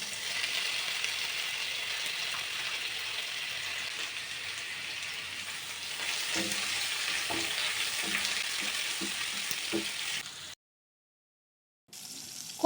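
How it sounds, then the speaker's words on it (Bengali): Bitter gourd pieces fry in mustard oil with cumin, fennel and white mustard seeds in a pan, making an even close hiss with light scraping ticks of stirring, then a brief cut to silence near the end. "করলাগুলো এই রকম শুকনো করে ভেজে নিতে হবে"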